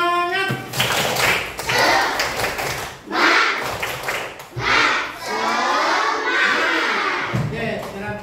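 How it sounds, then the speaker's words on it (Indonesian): A classroom of students doing a rhythmic spirit clap, loud patterned bursts of group clapping with shouts and cheers in between, several rounds over about eight seconds. "tepuk semangat."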